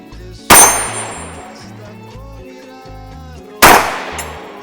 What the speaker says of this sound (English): we're gonna give Andrew a chance to shoot his hollow points, the same exact hollow points